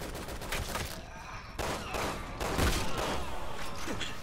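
Anti-materiel rifle fire in Resident Evil 6, with several heavy, sharp reports spaced a second or so apart over a busy background of combat noise and faint voices.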